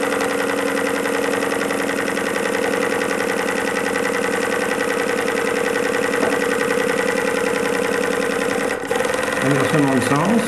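A small vertical steam engine model, type DN 15 with a flat slide valve and reversing eccentric, runs steadily with a continuous rhythmic mechanical chuff close by, shifting briefly near the end as the direction is reversed.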